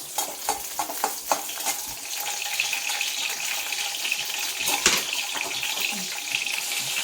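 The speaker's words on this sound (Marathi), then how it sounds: "थोडंसं तेलात लाल मिरच्या टाकायच्या, 2-3 हिरव्या मिरच्या टाकायच्या, थोडासा लसूण टाकायचा, चांगला परतून घ्यायचा।" Red and green chilies and garlic fry in hot oil in a home kitchen while a spoon stirs them. A steady sizzle carries scattered scraping and clinking strokes throughout.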